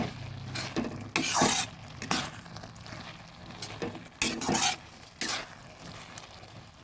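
A spoon stirs instant oats into a pot of khichuri, giving scraping, scooping strokes in irregular bursts at close range, with quieter gaps between them.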